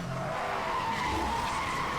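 A handbrake turn in the Need for Speed Hot Pursuit Remastered racing game, heard as a loud, steady tire skid and squeal over the car's engine for the whole stretch.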